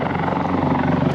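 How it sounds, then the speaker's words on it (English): A helicopter hovering over Back Beach in Vung Tau, its steady rotor drone loud and continuous throughout, with no voices over it. "there's a helicopter hovering over Back Beach"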